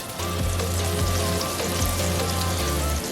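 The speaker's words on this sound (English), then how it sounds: "Now you're hearing that sizzle away." Steady crackling sizzle of chuck roast searing in hot oil, close and continuous, with a few faint utensil taps underneath.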